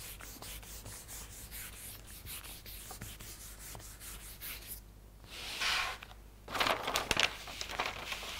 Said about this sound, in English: And just keep pulling that down and rubbing into place.